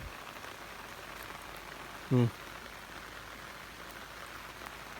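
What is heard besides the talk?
light rain falling in a durian orchard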